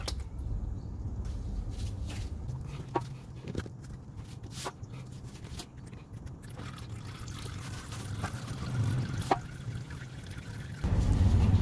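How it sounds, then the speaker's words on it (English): Automatic transmission fluid from a 2011 Toyota Avanza draining out of the drain bolt hole into a catch pan, a steady soft trickle and pour with faint background clatter, no speech. "Once the ATF has drained"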